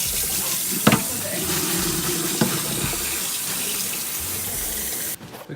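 Tap water runs steadily into a sink during hurried washing up, a continuous broadband rush with a few clinks of dishes, stopping abruptly near the end.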